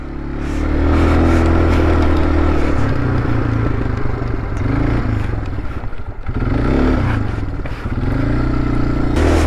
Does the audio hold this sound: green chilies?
no